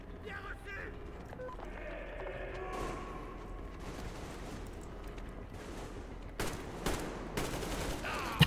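Gunfire in the video game Metro Exodus, with scattered shots and short bursts growing sharper and louder toward the end over a low rumbling game backdrop, with voices talking.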